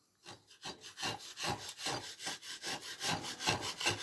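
A chisel carves a line into a wood sculpture with a series of rhythmic rasping scrapes, about a dozen close, soft strokes in steady succession.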